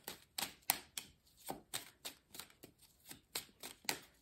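Tarot cards being shuffled by hand nearby: quiet, crisp riffles and slaps in a quick, fairly even rhythm, about a dozen strokes with no voices.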